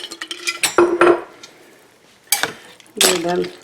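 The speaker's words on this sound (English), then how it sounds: "I'm just going to throw some of my dehydrated potato slices in there to soak up some of that juice" Dehydrated potato slices, dropped into a pot of leather britches and ham hocks, land in a few sharp clattering bursts with metallic pot knocks between quieter gaps.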